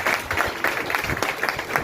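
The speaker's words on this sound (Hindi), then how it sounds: "मैं चाहूंगा बहन जी के लिए और सभी लोगों के लिए एक बार जोरदार तालियां" Audience applause at a gathering of an RCM business event: a brief, steady clatter of many hands clapping together, fairly close and continuous for about two seconds with no talk over it.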